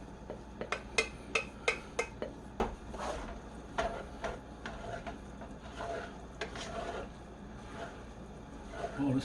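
A spoon stirs cooked quinoa, rice and venison together in a pot, producing a run of sharp clacks and scrapes, quick and closely spaced at first, then sparser and softer.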